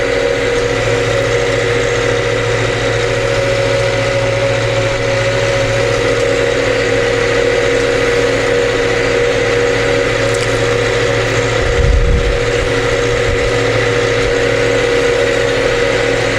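A tractor engine runs steadily and loudly while mowing green manure, a constant droning hum with a low rumble that swells briefly near the end, no voices.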